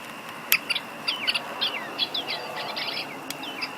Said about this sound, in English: you can hear their mating call.